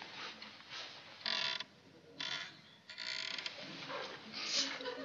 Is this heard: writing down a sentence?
no